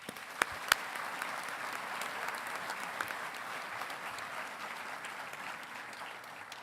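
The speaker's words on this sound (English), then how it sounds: "Please join me in a round of applause." Steady round of applause from a large engineering commencement audience, dense and even throughout with a couple of sharper close claps near the start.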